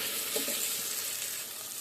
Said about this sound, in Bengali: আলুটা ভাজা হবে আবার তলায় আটকাবে না